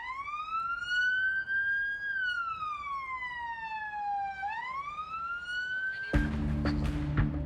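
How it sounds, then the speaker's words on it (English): A loud wailing ambulance siren rises and falls in long sweeping tones, then cuts into a harsher burst of noise near the end, near a motorway. "I hear an ambulance."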